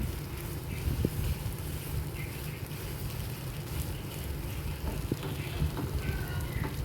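Pointed gourd stirred in a pan over a high flame as its water cooks off, giving a steady, close hiss of sizzling with a few light scrapes and taps from the spoon throughout.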